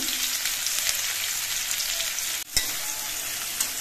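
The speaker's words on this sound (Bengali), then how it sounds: "মিষ্টি কুমড়োগুলো ভাজার সময় আমি অল্প করে একটু নুন দিচ্ছি।" Pumpkin pieces sizzle steadily in a frying pan as a little salt goes in, a bright constant hiss with a sharp clatter midway and light stirring noises, no voices.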